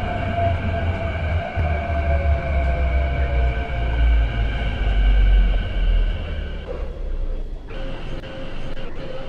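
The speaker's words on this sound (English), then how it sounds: "The train to Tilking Lane is arriving" An MTR Kwun Tong Line Q-Train rolls into a station in the Hmmsim 2 train simulator, a loud low rumble with sustained tonal motor whine that drops away near the end, no talking.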